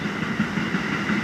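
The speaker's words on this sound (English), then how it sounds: "It's always a train going by." Train rumbling past in Brooklyn, a steady close low roar with faint clatter, heard alone without voices.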